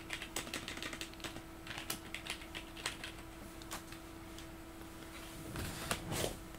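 Typing on a computer keyboard, a run of quick, crisp key clicks at the start, then sparser taps and a final cluster, over a steady low electrical hum with no talking.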